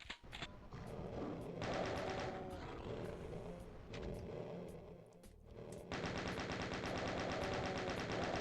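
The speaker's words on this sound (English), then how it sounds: "So, chain gun all the way." Rapid chaingun fire from the Doom II video game, a dense steady rattle of shots running almost the whole way through, briefly thinning in the middle before resuming at full loudness, with game noise and no talking.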